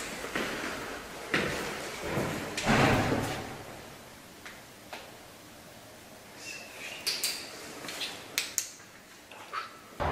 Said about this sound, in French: Je vais revenir tout d'abord au bruit qu'on a entendu la première fois, donc c'est-à-dire pendant l'enquête de jour, le bruit de porte